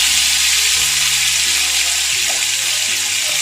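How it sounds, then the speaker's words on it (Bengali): Mustard, coconut, green chilli and poppy seed paste hitting hot oil gives a loud, steady broadband sizzle that fills the whole short stretch, with a faint low hum beneath and no talking. "তেলটা গরম হয়ে যাওয়ার পর আমি যে পেস্টটা এখানে রেডি করেছিলাম, সর্ষে, নারকোল, কাঁচা লঙ্কা, পোস্ত, সেই পেস্টটা আমি এখানে দিয়ে দিচ্ছি তেলের মধ্যে"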